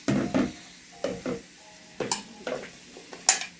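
Chicken pasta is stirred in a container with irregular scraping and clacking strokes, a few soft bursts spaced across several seconds, close up with no talking.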